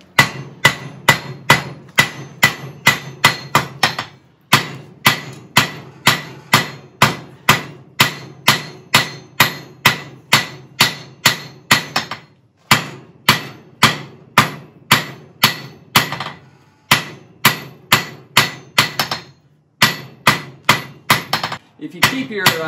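Blacksmith hammering metal on an anvil: loud, ringing strikes in quick rhythmic bursts, brief pauses between runs of blows, close and alone.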